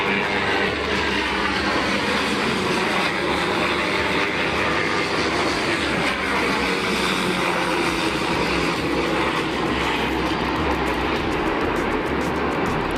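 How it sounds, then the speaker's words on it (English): Black Hawk military helicopters fly low through downtown Chicago at night, producing a loud, continuous engine and rotor roar that holds steady throughout without letting up. "That is 2 helicopters flying above, or flying through downtown Chicago."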